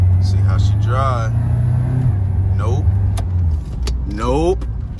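A used Chevrolet Suburban driven on a test drive at an auto auction, with a steady low engine rumble and road noise throughout while someone talks over it.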